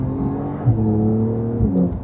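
A Porsche Carrera 992 with an 8-speed PDK gearbox pulls hard, its engine note climbing in pitch, dipping briefly at a quick gear change and rising again, loud and close from inside the car.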